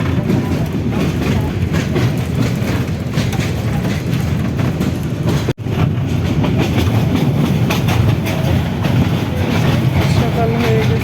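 Steady, loud rumble and rhythmic clatter of a moving train heard from inside a dark carriage, continuous throughout apart from a momentary dropout midway.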